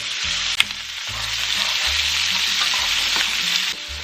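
Chopped onions, celery and carrot fry in a pot as the base for braised beef short ribs, giving a loud, steady sizzle throughout, with one sharp clack near the start and no voices.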